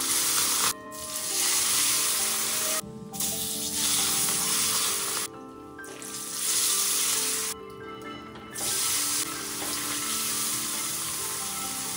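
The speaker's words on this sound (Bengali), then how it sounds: "আগেই মাছের মাথাগুলো ভেজে নিচ্ছি, কারণ মাছের মাথা দিয়ে একটা তরকারি রান্না হবে।" Fish heads frying in plenty of hot oil in a wok, a loud continuous sizzle that drops out briefly several times as pieces are moved, with no talk over it.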